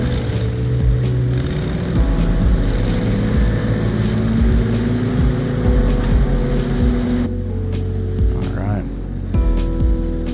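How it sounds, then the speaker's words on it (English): A lawn mower runs steadily in the foreground, mowing up fallen leaves across a large wrap-around landscaped lawn as a leaf cleanup, its engine drone constant for the whole stretch while someone speaks briefly over it. "We're just gonna mow up, get all the leaves."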